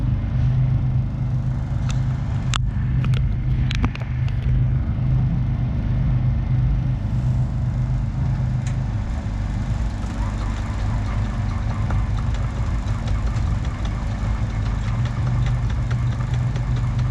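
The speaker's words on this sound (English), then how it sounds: "My engines are running." Boat engines idling at the dock before pulling anchor, a steady low rumbling drone throughout, with a few sharp clanks and knocks near the start.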